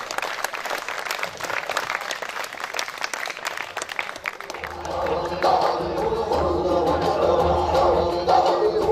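Audience applause greets a comedian walking on at a Mazak Raat comedy show at GCT Layyah, starting as scattered claps and swelling into dense, sustained clapping with some crowd noise.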